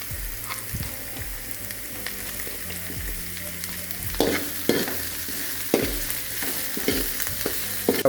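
Capsicum stir-fried in a hot pan: steady sizzling and frying under repeated scraping, clattering strokes of a spoon against the pan, close and busy throughout.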